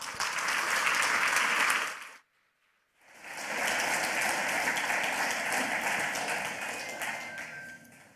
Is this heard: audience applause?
yes